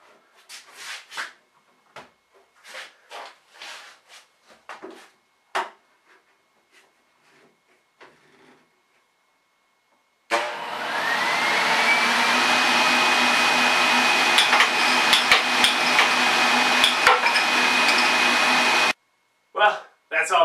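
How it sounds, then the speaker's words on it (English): A homemade air hockey table running, its blower giving a steady loud whoosh for several seconds with faint puck clacks, after a stretch of scattered knocks and taps; the blower cuts off abruptly near the end. "I figured what you really wanted to see was the air hockey table in action."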